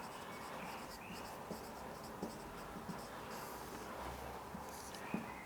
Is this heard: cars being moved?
no